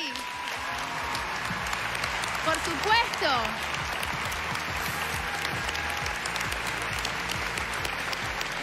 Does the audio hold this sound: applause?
yes